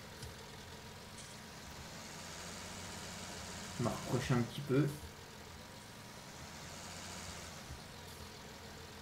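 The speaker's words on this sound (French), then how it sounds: "On va laisser tourner en route le tracteur." Tractor engine in Farming Simulator 19 idling steadily as a low continuous hum throughout, with someone speaking briefly over it midway.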